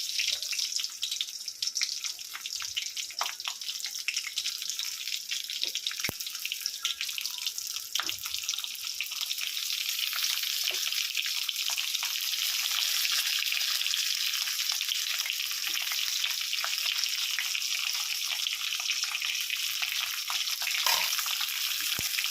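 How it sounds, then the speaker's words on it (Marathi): Stuffed capsicums sizzle in a cumin tempering in a hot pan, a close, steady crackling hiss that runs unbroken with small pops and no talk. "तर अशा प्रकारे आपण आता ह्या मस्त फ्राय करून घेऊया."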